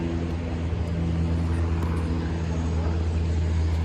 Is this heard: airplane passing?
yes